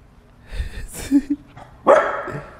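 A puppy barks a few times, close and fairly loud: a short muffled yelp first, then a sharper, stronger bark near the end, with no clear speech.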